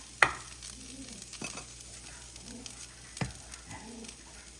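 Hash browns sizzle gently in a pan while a spatula scrapes and flips them, with a few sharp knocks against the pan over a low steady hiss.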